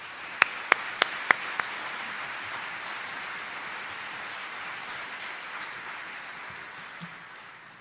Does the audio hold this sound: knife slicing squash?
no